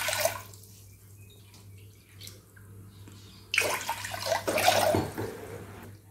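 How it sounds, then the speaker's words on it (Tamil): Water splashes and pours into a pressure cooker in two bursts over a low steady hum, with quieter trickles and drips before them; close and fairly loud. "இப்போ நம்ம குக்கரில் தண்ணி ஊற்ற போகிறோங்க."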